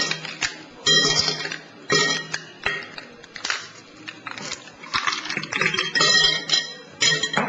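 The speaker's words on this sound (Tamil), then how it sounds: "இந்த பாட்டில்ல இந்த ஐஸ் கட்டிகளை போடும்." Ice cubes dropped into a bottle for a home science experiment, a run of sharp clinks and rattles arriving in several bursts over the whole stretch, close and fairly loud, with a wet, watery edge.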